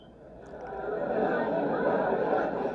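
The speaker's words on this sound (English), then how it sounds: "Nature 2, this is the cafe ambience." A FamiSym Pixie Pro white noise machine plays a cafe ambience track: a steady, dense murmur of indistinct crowd chatter that swells slightly in level and then holds even throughout, with no clear voices standing out.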